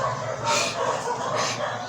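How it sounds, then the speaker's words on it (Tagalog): A dog barks twice, about a second apart, at moderate distance over a constant low background hum. "ingay ng aso."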